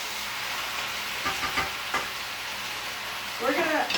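Beef and snap peas stir frying in a pan, a steady close sizzle with occasional stirring scrapes and a brief louder crackle near the end.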